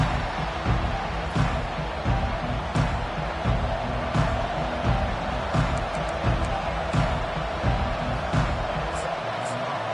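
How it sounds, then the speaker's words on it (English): A stadium crowd roars in the College Football 25 video game at an LSU versus South Carolina matchup, a loud continuous crowd wash with periodic thumps and surges. "They challenge this crowd to bring the energy, and I'd say they're doing that."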